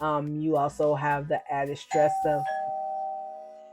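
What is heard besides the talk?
doorbell ringing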